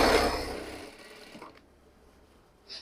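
A sewing machine stitches the hem of women's pants, a loud burst of rapid mechanical whirring that fades out within about a second and a half, followed by quiet and a faint click.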